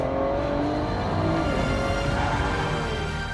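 A Ford GT accelerates hard around a tight race circuit, its loud engine note rising and surging as the throttle is punched, close and with no voices.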